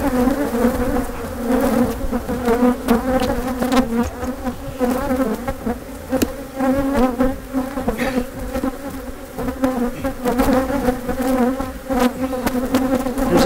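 Dense, continuous drone of many honey bees buzzing at an open hive while a weak and a strong colony are combined, steady and close with no talking.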